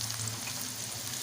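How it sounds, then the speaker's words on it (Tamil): Chopped garlic frying in oil in a pan while chicken manchurian is being cooked, giving a steady, close sizzling hiss with light crackle and no voices over it. "இப்போது இந்த பூண்டை எண்ணெயில் போட்டுக்கலாம். நல்லா ஃப்ரை பண்ணிக்கலாம்."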